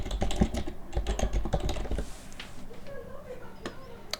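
Computer keyboard typing into a browser search bar, a quick, close run of crisp key clicks for about two seconds, then a few scattered taps as a voice speaks over it.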